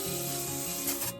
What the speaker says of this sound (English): I'm going to give it a quick spray down as it's really quite dusty.